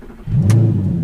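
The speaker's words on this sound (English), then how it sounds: "So car roars to life." A manual-transmission car engine cranks and catches, then settles into a loud, steady idle with a brief high-pitched hiss at the moment it fires; no talking.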